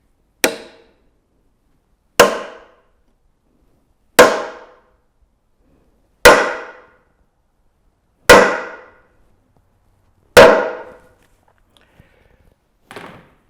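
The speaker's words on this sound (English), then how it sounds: "notice the hammer and how I am striking that wedge." A hammer strikes a glued wooden wedge into a joint of a sack-back Windsor chair: six loud, sharp blows spaced about two seconds apart, each with a short ringing decay, then a fainter knock at the end.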